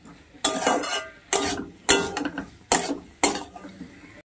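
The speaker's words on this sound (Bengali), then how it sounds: "মশলাগুলোকে কষিয়ে নেবো আলুর সঙ্গে।" Spices being sautéed with new potatoes in a pan, heard as five distinct bursts of spoon scraping and clanking against metal with soft sizzling underneath, no talking.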